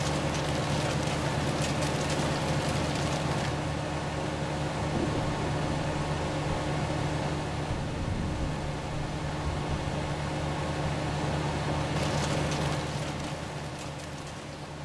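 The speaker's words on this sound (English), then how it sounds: "It's still raining." Steady rain falling in a farming game, a dense continuous hiss that stays fairly loud and even throughout with no voices over it.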